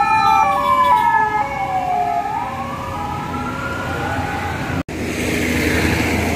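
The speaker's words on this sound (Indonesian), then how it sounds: "Dapat sapaan hangat klakson dari MGI." A loud MGI bus horn greets in a drawn-out, multi-tone blast whose pitch slides downward, sounding on a road near the Bandung–Garut regency border before giving way to steady traffic rumble.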